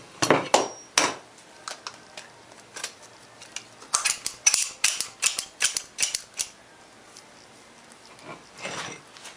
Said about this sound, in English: Start by inserting your tube of silicone into your caulk gun.